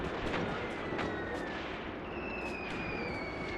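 High-explosive shells land in a Graviteam Tactics battle, heard as several dull, distant thuds over a steady wash of rumbling battlefield noise.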